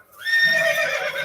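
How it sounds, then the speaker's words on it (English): A single loud horse whinny plays as a sound effect, a clear rising then sustained neigh heard alone and close. "The bear has clearly been working on its horse impressions lately."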